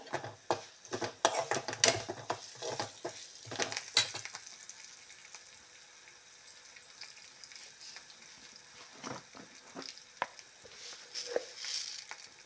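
Curry leaves crackle and sizzle in hot oil for a coconut-based kayi rasa curry, with bursts of popping and stirring early on, settling into a softer steady fry with scattered crackles later.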